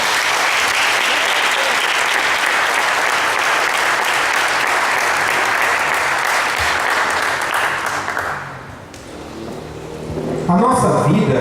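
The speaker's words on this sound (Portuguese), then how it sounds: "Dê um louvor de palmas ao Senhor Jesus." A church congregation at an evening service claps steadily in praise of Jesus, a dense, loud wash of applause that fades out after about eight seconds and gives way to a voice and quieter room sound.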